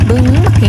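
A tractor engine runs steadily in a rice paddy field, a low continuous hum with rhythmic throb, close and fairly loud, while a voice talks over it.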